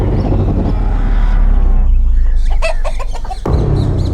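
A rooster clucking nearby, a run of sharp, excited clucks and squawks rising over a steady low rumble of background noise, loud and close.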